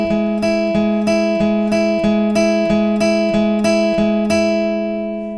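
An acoustic guitar fitted with a capo plays the verse picking pattern of a song, steady repeated plucked notes in an even rhythm, close and bright, ringing alone without voices.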